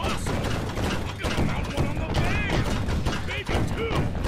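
A turret cannon fires repeatedly in Sly Cooper: Thieves in Time, a rapid run of thudding blasts mixed with mechanical clatter and whooshing game effects, with voices talking over it.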